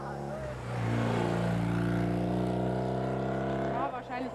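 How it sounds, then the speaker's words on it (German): A motorcycle comes up from behind on a closed road stretch during a two-wheeler motorsport event. Its engine note rises steadily and rumbles loudly for several seconds, then drops away near the end, with people talking faintly in the background. "jetzt kommt glaube ich schon wieder Motorrad von hinten"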